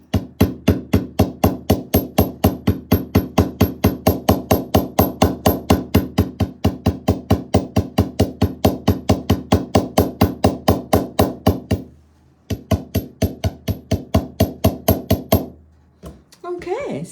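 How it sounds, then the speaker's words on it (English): A chasing hammer taps a heart charm loop resting on a metal bench block for jewelry earrings, producing a fast, even series of close, bright metallic taps that stop briefly near the end before a few final strikes. "Okay, so I have my chasing hammer right here"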